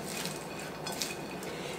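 Salad with tomatoes and coleslaw mix is tossed in a bowl, making a quiet, steady rustle with faint clinks of utensils against the bowl and no voices.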